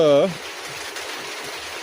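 Rain falling steadily on a hot day in Rajshahi gives a constant, fairly close hiss, with a brief voice at the very start.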